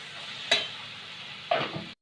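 Ground chili paste cooking in a pan for Goan-style stuffed squid, giving a soft continuous sizzle with two sharper stirring scrapes close by, no talking.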